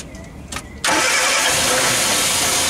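A Morris Minor with an A-series engine cranks briefly and catches, then settles into a loud, steady idle close by that carries through to the end.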